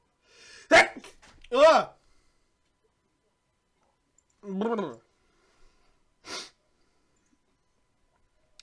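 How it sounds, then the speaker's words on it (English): A person sneezes sharply and loudly during a tabletop role-playing session, with a short breathy burst in an otherwise quiet room. Other short vocal sounds and speech come before and after it. "That was a fucking sneeze."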